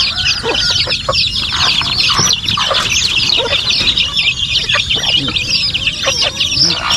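Chickens, a turkey and chicks fill a farmyard with constant overlapping clucks and high peeping chirps, busy and close, with scattered sharper calls throughout and no talking.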